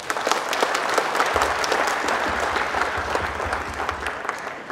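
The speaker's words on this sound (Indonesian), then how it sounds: "Tepuk tangan dulu dong." An audience at a MikroTik user conference session on DNS amplification filtering claps steadily, a dense, sustained burst of applause that runs evenly for several seconds with no talking over it.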